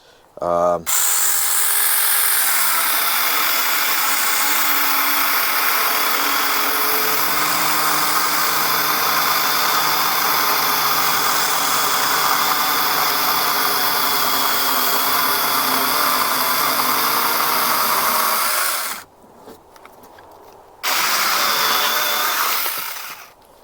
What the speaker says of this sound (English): I figured we'll bury the whole thing in the wood and see how it does